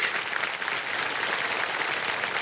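A studio audience at the KBC quiz show breaks into loud, steady applause that continues without pause and fills the room, with no speech over it.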